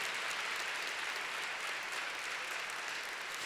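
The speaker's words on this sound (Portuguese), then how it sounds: "Vamos aplaudir Jesus, gente." Congregation at a church service applauds continuously, a dense, even wash of many hands clapping at a distance that holds steady throughout without talk.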